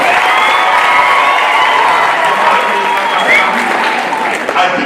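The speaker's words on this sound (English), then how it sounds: "Let us clap for him." A university crowd breaks into loud, sustained applause with cheering and shouts, a dense continuous roar of clapping that holds steady throughout.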